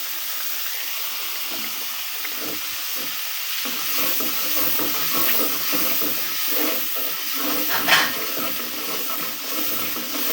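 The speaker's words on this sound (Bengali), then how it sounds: "এখন ভালো করে কষাবো মশলাগুলো" Onion and garlic masala for a rui fish curry fries in a pan after a splash of water, giving a steady sizzling hiss with occasional stirring scrapes, close and unbroken throughout.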